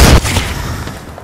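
Gunfire in the video game Apex Legends, a loud burst of shots at the very start that quickly drops into a fainter rumbling tail.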